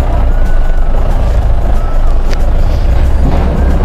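At road repair work on a mountain route in Zuluk, Sikkim, a vehicle's faint reversing beeps sit under loud, steady broadband rumble of engines and wind.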